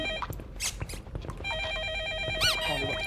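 Telephone ringing in a horror video game, repeated electronic bell rings in short bursts, fairly clear against footsteps and game noise.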